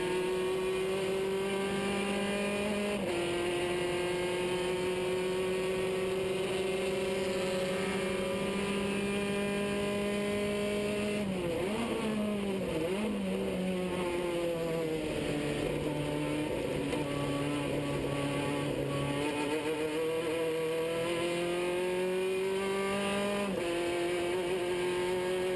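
A race car onboard at the Mouras circuit, Flavio Enzenlach's GT 2000 machine, holds a loud continuous engine drone that climbs through the gears, with brief drops during shifts and braking before it winds up again.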